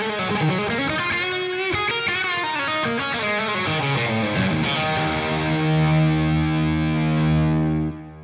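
Heavily distorted electric guitar through an amp modeler with echoing delay and lush reverb, notes bending and ringing out into a long sustained chord that fades at the end.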